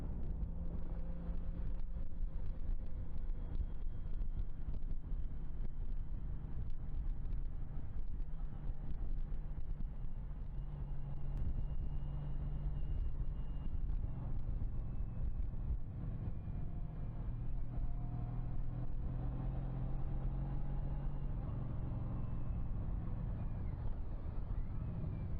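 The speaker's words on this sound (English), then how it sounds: "Boy, that motor sounds smooth." Engine of a Can-Am Ryker three-wheeler running smoothly while riding, a steady low drone with wind rush over the microphone, continuous and fairly close throughout.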